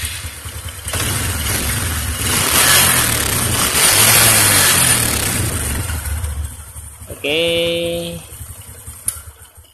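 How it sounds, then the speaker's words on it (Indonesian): A Honda motorcycle cranks and starts after an ignition pulser repair, its engine running with a rough mid-range rumble that swells and then settles, close by, followed by a short electronic tone and a brief spoken word. "Mesin udah nyala normal."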